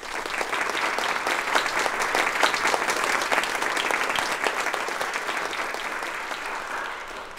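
An audience applauds steadily at a company celebration for Bionova, a dense, continuous wash of many hands clapping that holds strong for the full stretch before easing slightly at the end, with no talk over it.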